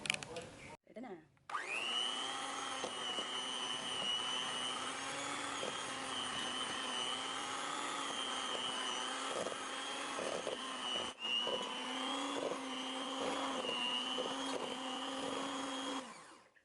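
An electric mixer whirs steadily at high speed while blending ube with evaporated milk, a close, sustained motor drone lasting over fifteen seconds with a brief stutter partway through.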